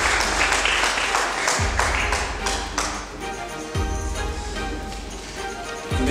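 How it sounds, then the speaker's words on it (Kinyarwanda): Guests at a church wedding ceremony in Nyamata, Rwanda, clap in a lively, uneven patter over ringing musical tones and occasional deep thumps, and the applause gradually thins toward the end. "amashyi menshi"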